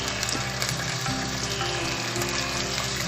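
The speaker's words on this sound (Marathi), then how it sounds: "आपण याला चांगलं परतून थोडं वाफून घेऊ." Tomato and capsicum sauté with bay leaf in hot oil for Malvani-style paneer biryani, giving a steady, close sizzle and crackle of frying with no talk.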